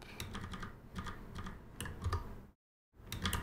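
Fingers tap a computer keyboard in a quick run of close, crisp clicks, broken by a short moment of complete silence before the typing resumes.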